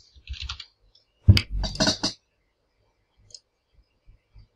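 Keystrokes on a computer keyboard, a short cluster of clicky taps followed by a few sparse, faint single presses in an otherwise quiet room.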